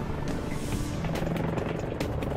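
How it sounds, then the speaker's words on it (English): The massive main rotor of an EH-101 helicopter in flight gives a loud, continuous throbbing roar with rapid blade pulses, close and unbroken for the whole moment. "Every second the EH-101 is in flight, its massive main rotor is shoving up to 45 tons of air out of its way."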